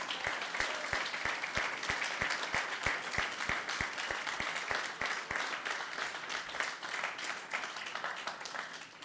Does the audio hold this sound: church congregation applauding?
yes